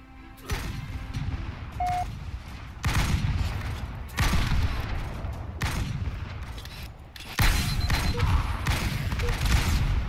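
Repeated loud bursts of gunfire from the video game Halo Online, four or five separate volleys several seconds apart, each starting abruptly and trailing off, with quieter game noise and faint voices in between.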